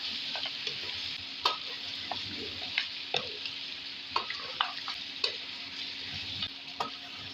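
Boiled mutton frying with browned onions in a pot, stirred with a utensil that scrapes and knocks at irregular intervals over a steady, fairly quiet sizzle, with no talk.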